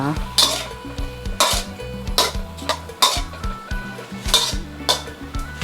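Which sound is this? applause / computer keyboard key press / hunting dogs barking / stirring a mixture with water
stirring a mixture with water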